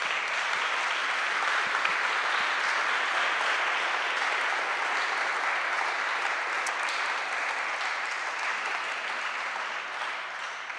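Steady, sustained audience applause after a conference panel discussion, a dense wash of many hands clapping that holds at an even level and fades only slightly.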